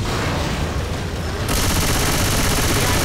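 Machine gun fire in Left 4 Dead 2 during an Advanced Mode hotel level, a dense continuous rattle of rapid shots that grows brighter and louder halfway through, with no pauses.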